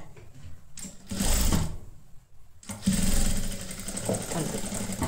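A sewing machine runs in two bursts, stitching a straight seam on a halter neck blouse, its rapid mechanical whir stopping briefly in between and then running on steadily; no talk over it.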